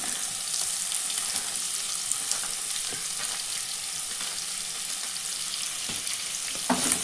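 Chopped onion fries in a pan with a bright, constant sizzle, close and steady, with occasional soft scrapes as it is stirred.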